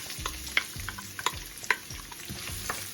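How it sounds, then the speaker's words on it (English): Onion and garlic frying in a few tablespoons of very hot oil for chicken paprika, a steady close sizzle with intermittent stirring clicks and scrapes, no voices. "Let's start by frying your onion a little bit"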